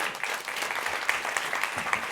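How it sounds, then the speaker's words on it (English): An audience at a MozFest event applauding, a dense, steady clatter of many hands clapping together, loud and sustained throughout. "you guys can give them applause"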